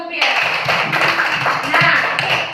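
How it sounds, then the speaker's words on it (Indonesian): A group claps hands together in a classroom counting lesson: a sustained, dense round of clapping up close, with voices mixed in. "Tepuk tangan dulu untuk Pierre."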